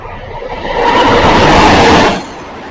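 A train passes on the track near Kalasan station in Indonesia. A broad rushing roar swells, holds loud for about a second and then fades away.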